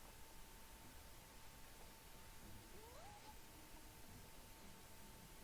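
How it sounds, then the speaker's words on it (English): A cat in the video game Dragon Age Origins gives a single short, faint meow midway through, set against a constant hiss of background noise. "Hello, kitty. Kitty."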